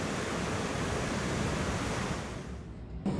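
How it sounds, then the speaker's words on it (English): Steady rushing water in the Bull Run Watershed, a dense broadband wash like surf or falling water that holds loud and constant, then eases slightly near the end with no voices. "4 hours of relaxing water sounds from the Bull Run Watershed."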